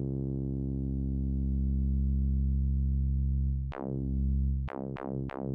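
A Mannequins Three Sisters synthesizer filter rings on a harmonic: a steady, rich tone sustains for several seconds, then four sharp plucked strikes follow, each ringing out with a bright attack and a slow fading decay.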